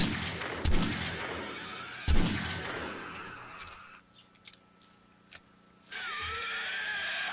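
Gunfire from the video game 7 Days to Die: two loud, booming shots about a second and a half apart, then quiet mechanical clicks and rattles, as if a weapon were being reloaded, before a rushing noise returns.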